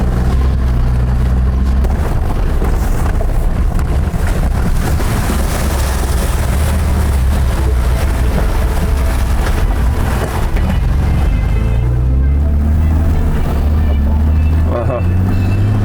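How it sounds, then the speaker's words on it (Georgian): A Mercedes G-Class ploughs through a river, its engine a loud, continuous low rumble mixed with rushing, splashing water and wind buffeting the microphone, sustained and close for the whole stretch. "კიდე ერთხელ უნდა გავიარო მდინარეში."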